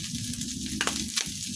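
Vegetables sauté in oil rendered from meat, a steady close sizzle and crackle with a few brief stirring scrapes, no voices.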